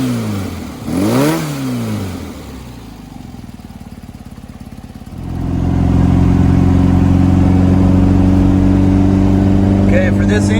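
A VW 1800 carbureted engine on a bench cranks and catches, idles roughly, then rises into a loud, steady break-in rev that holds near and strong until the end.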